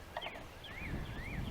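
Chickens in their backyard garden run give a few faint rising and falling calls, distant and quiet over low background rumble.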